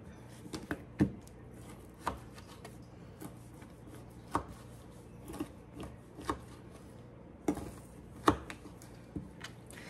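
Pork fat being cut up for rendering into lard, with a steady run of soft, fairly close knife chops landing on a board at an uneven rhythm, with no talking.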